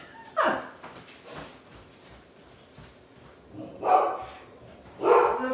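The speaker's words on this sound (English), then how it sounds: "And of course the dog's barking." A dog barks three times at a craft table indoors, one sharp bark, a pause, then two more close together, loud and near over a quiet room.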